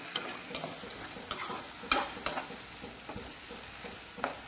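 Onion and tomato masala, with tomato puree, sizzles in a pan while being stirred for a matar paneer curry. A steady soft frying hiss runs throughout, broken by scattered sharper crackles and spatters from stirring.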